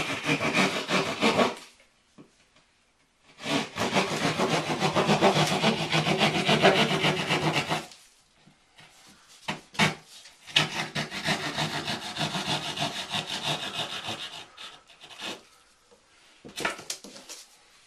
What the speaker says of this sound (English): we've got the saw. We're going to go ahead and just cut out the hole here.